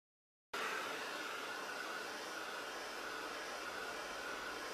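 A hair dryer switches on suddenly and keeps up a loud, steady airy roar close by while it dries paint on a wooden plaque.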